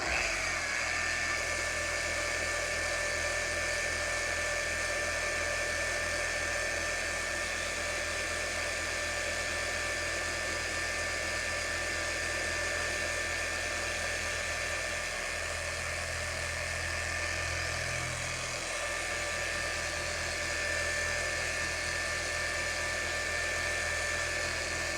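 A polisher runs steadily at speed 1, working cutting compound on a panel, giving a continuous high-pitched motor whine with a low drone underneath that holds even and unbroken throughout.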